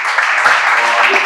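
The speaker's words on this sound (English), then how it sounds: "I would like the audience to just help me give him a round of applause" Brief, loud applause from an audience at a Black History Month event, a dense clatter of clapping that fills the short stretch, with a voice faintly mixed in.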